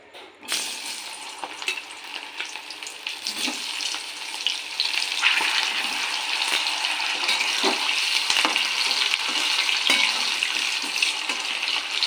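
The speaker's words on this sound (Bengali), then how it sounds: "তেলটা গরম হয়ে গেছে এবার আমি এক এক করে এই আমগুলো দিয়ে দেবো" Raw mango pieces for pickle dropped one by one into hot oil, a loud steady frying sizzle starting after a brief quiet and growing louder midway, with occasional stirring clinks and no talk.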